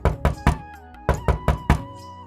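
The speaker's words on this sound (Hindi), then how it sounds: "लेकिन तभी कोई दरवाज़ा खटखटाता है।" Knocking on a door: two quick groups of three firm knocks separated by a short pause, close and distinct over a soft background tone.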